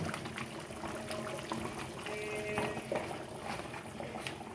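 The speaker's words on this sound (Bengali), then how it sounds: "কাঁচা সর্ষের তেল দিয়ে দিচ্ছি" Raw mustard oil poured over hilsa fish in a pan, a soft steady liquid trickle and faint bubbling running throughout without talk, moderately quiet and close.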